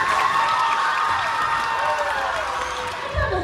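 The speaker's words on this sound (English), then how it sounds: "Give Ethan one more round of applause for showing up today." Applause, cheers and children's shouting from the audience at an elementary school assembly, a busy continuous crowd roar with clapping and voices mixed together, fading slightly toward the end.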